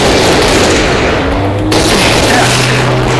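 Rockets explode during a video game firefight: a loud, dense and continuous roar of blasts and gunfire fills the whole stretch, with no clear gaps between impacts.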